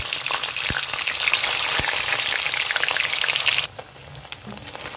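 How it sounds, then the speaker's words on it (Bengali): Paneer pieces frying lightly in hot oil, a dense, bright sizzle with crackling pops and an occasional utensil tap, which drops off abruptly near the end to a faint simmer, no voices. "পনিরগুলো খুব কড়া করে ভাজবো না, হালকা করে ভাজবো"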